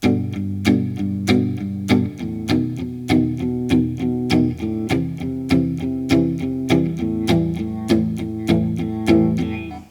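An electric guitar strums a rhythm with a bouncy strong-weak feel: a fuller, ringing downstroke on each beat alternates with a tight palm-muted offbeat, repeating steadily for about ten seconds with no voice.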